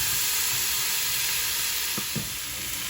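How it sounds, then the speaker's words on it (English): Cajun shrimp, sausage and vegetables sizzle loudly and steadily in a hot skillet, a constant hiss broken by a couple of soft clinks as the food is flipped. "give this a flip and let it cook on the other side"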